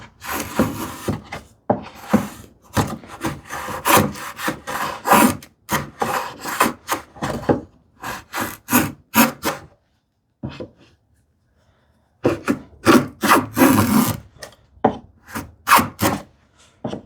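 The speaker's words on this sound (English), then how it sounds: "This is very thick shaving, so let me back off the iron a little bit." A homemade wooden rebate plane with an O1 tool steel blade takes thick shavings from a board in a quick series of rasping strokes, close and fairly loud, broken by a short pause partway through.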